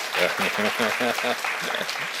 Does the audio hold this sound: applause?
yes